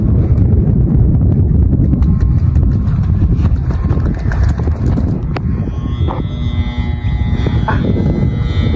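Strong wind roars steadily against the microphone while a bee kite is flown, a dense low rumble that barely lets up, with faint rattles and higher tones coming through.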